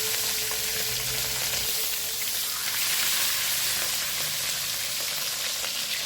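Tanigi fish fries in hot oil in a pan, a loud, steady sizzle and crackle close up that continues without a break and with no talk.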